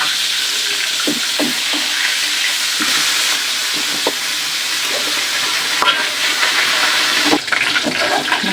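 Pangas fish frying in a hot wok of oil, a steady broadband sizzle running throughout with occasional clinks and scrapes, close and fairly loud, no talking.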